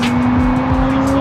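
At a night car meet, a car pulling away nearly stalls, its engine holding a low, strained, steady hum up close for a brief moment.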